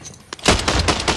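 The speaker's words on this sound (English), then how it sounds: "Yes, shotgun." A shotgun fires in Call of Duty Warzone: one heavy, close blast with a noisy rumbling tail that fills the rest of the brief moment.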